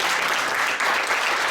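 An audience claps warmly at a tribute gathering, a dense, steady burst of applause that carries on evenly for a moment.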